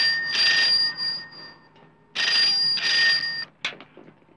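Telephone ringing in a house, heard in two long electronic ring bursts separated by a pause, loud and clear with no talking over them.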